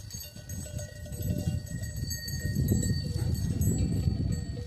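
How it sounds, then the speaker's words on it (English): Sheep run across open countryside in rural Portugal, their hooves making a loose, uneven patter on the ground at moderate distance against faint outdoor background noise. "sheep is running"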